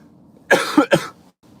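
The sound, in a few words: cough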